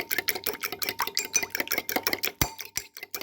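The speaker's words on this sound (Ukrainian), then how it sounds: "І добре збиваю виделочкою" A fork whisks one small egg in a bowl for a yeast cake dough, making a fast, steady run of light clicking taps against the dish.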